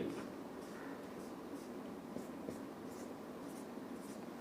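Marker or chalk writing a chemical structure for perchloric acid on a board, with faint, quiet repeated rhythmic strokes over a steady background hum.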